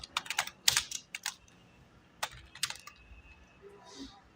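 Light, quick clusters of keystrokes on a computer keyboard, faint and close, coming in short irregular bursts with brief pauses between them.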